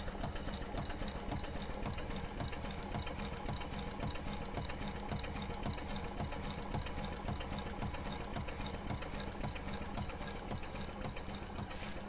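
Allen 10-wheeler model steam locomotive running on compressed air, giving a quiet, steady rapid mechanical chuffing and knocking rhythm that continues evenly with no voices.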